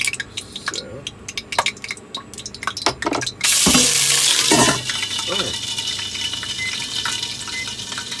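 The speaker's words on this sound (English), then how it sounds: "You just want to saute without turning too goldy." Garlic and clams sautéing in a pan give scattered clatters and knocks first, then a sudden loud rush of sizzling that settles into a steady frying hiss.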